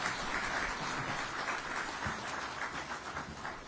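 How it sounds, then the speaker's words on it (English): A conference audience at a national safety and health at work event applauds the Vice President, a steady, fairly soft wash of many hands clapping that holds evenly throughout, heard from a distance in a large hall. "Round of applause for the Vice President"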